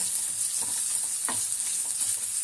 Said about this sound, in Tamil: இப்போ முந்திரியும் தேங்காயும் கொஞ்சம் நல்லா வறுபட்டுச்சு